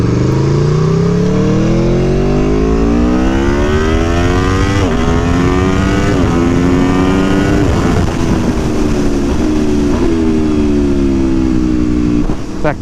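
A 2017 Aprilia Tuono V4 1100 RR motorcycle engine roars loud and close, climbing steadily in pitch through several quick gear changes, with no talk over it.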